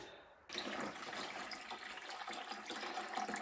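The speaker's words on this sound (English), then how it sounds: "now water is coming out" Water gushes out of a hydrophore pressure tank steadily after a brief quiet moment, a continuous rushing, splashing flow close by.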